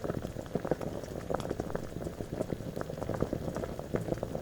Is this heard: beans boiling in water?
yes